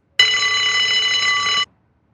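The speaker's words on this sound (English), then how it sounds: "Is that the alarm?" Alarm going off in the video game Unheard, set in a mental hospital: a single loud, steady electronic tone lasting about a second and a half, then cutting off abruptly, alone with no voices.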